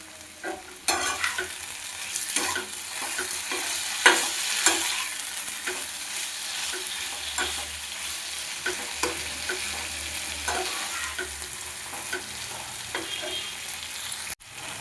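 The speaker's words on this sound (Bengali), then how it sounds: "আলুটা আমি খুব ভালো মতো করে কষিয়ে নিয়েছি" Potatoes sautéing in a pan with salt and a little sugar give a continuous sizzle broken by frequent spatula scrapes and stirring clicks, close and fairly loud, no voices.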